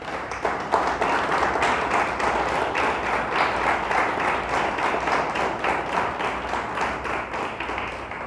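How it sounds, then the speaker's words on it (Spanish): A church congregation applauds, a sustained wash of many hands clapping with some rhythmic, near-unison claps, steady and fairly loud throughout. "Dele un fuerte aplauso a Dios."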